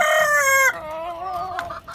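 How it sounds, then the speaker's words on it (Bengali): A tiger-breed rooster crows up close and loud, one long cock-a-doodle-doo that breaks and trails off, with no talk over it. "এটা টাইগার মোরগ আর টাইগার মুরগি টাইগার দম্পতি"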